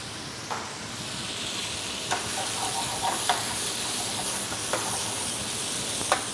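Cherry tomato pieces sizzling in a pan on a sautéed base for a grouper ragù, a steady bright frying hiss with a few sharp pops and stirring clinks, with no talking.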